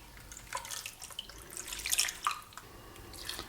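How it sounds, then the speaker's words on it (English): Apple juice poured into a cooking pot holding baby back ribs and other ingredients, a light trickling and dripping of liquid with a few brighter splashes near the middle, heard close and fairly quiet. "Add 250 ml of apple juice."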